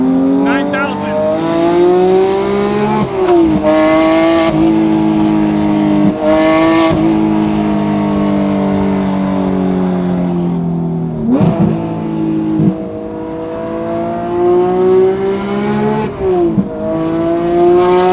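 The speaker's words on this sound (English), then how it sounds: "turn the exhaust on, put it in sport mode, downshift a couple times" A loud 4.5L GT3 exhaust in sport mode revs repeatedly to 9,000 rpm, its pitch climbing and falling with sharp blips between downshifts, close up throughout.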